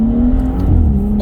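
Audi S3 Saloon 8V Stage 1 or BMW M135i F20 accelerating at full throttle, a loud, close engine drone with a steady rising tone and a deep rumble underneath, no voices.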